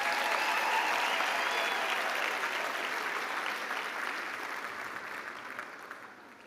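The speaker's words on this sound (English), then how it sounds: "Give them another round of applause." Applause for the Nelson Mandela University Choir at an autumn graduation ceremony in Gqeberha, a broad, dense roar of many hands in a large hall, steady at first and then gradually fading.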